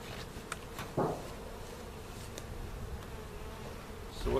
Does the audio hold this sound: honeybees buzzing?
yes